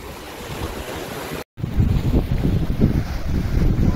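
Sea waves and wind buffet the microphone during a fishing trip on a choppy coastline, a rough rumbling wash with heavy wind noise that briefly cuts out, then returns louder and gustier.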